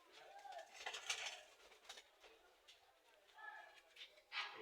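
Several Giribaz pigeons coo and call in soft bursts close by, a steady murmur of birds with a slight scrape or shuffle, kept at a pigeon keeper's place, and no one speaks.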